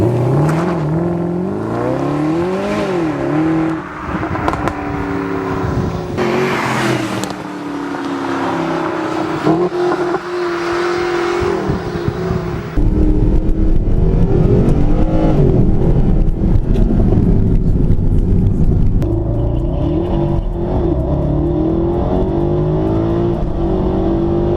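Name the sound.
Mercedes SLS AMG engine revving, exhaust roar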